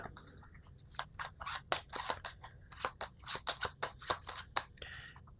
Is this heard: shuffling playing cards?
yes